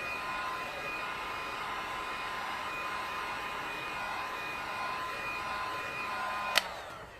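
An embossing heat gun set as hot as it goes, blowing hot air in a steady, loud, even whoosh that holds throughout, with a sharp click near the end as it shuts off.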